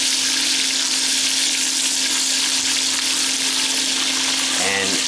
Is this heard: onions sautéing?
yes